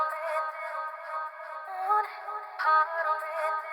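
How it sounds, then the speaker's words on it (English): A processed vocal chop sample from Splice loaded into an FL Studio drill-style beat, high, filtered voice fragments with thin wavering pitch and no low end, heard alone at moderate level. "I've just pulled in a vocal chop from Splice."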